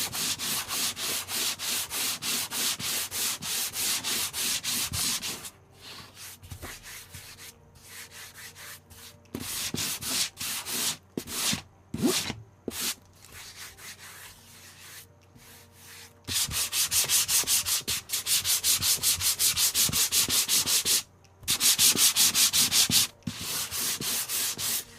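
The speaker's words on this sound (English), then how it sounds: "And then I'm just going to give it a nice gentle sanding." Sandpaper of 220 grit wrapped around a scrap block of 2x4 wood sands a painted surface in steady rasping strokes, a dense run of rubbing for five seconds, then softer intermittent strokes, then sustained sanding again.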